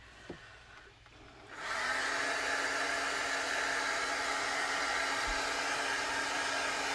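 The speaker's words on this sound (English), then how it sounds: "So you can just take a hair dryer or a heat tool, anything that's hot, to just give it a nice dry" A hair dryer used to dry a layer of paint switches on and settles into a loud, steady whooshing blow that continues unbroken, close by, with no talking.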